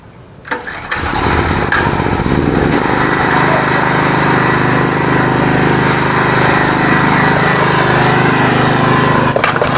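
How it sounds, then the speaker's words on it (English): A portable generator engine pulls into life and then runs at a loud, steady, close drone with no change in pitch for the rest of the stretch, with no talking over it. "right now let's turn on the generator"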